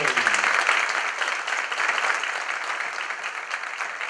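An audience breaks into applause at the close of a sports journalism panel talk, with a dense, steady clapping that starts strong and tapers slightly over a few seconds.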